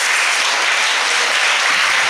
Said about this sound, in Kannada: ಅವರಿಗೆ ನಾವೆಲ್ಲರೂ ಒಂದು ದೊಡ್ಡ ಚಪ್ಪಾಳೆಯನ್ನು ಕೊಡೋಣಪ್ಪ